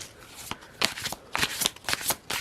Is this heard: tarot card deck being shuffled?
yes